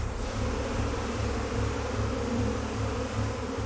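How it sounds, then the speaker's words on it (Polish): A dense swarm of around 3,000 bees buzzes steadily and close, forming a continuous, even drone with no pauses and no voices. "To dużo pszczół!"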